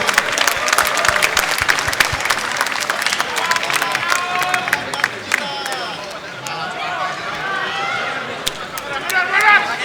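Sustained audience applause with a crowd cheering at a boxing title-belt presentation ringside for Chris John vs Daud Yordan, dense clapping filling the whole stretch with a slight dip midway and swelling again at the end.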